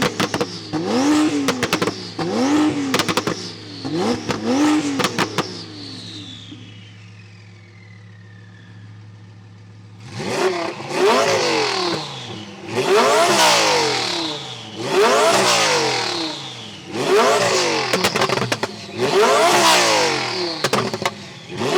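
Two 1500 bhp cars, a Porsche Turbo S and an Audi R8, rev their engines one after the other at a quarter-mile roll race, with loud repeated rising blips, a short idle pause, then harder, louder revs.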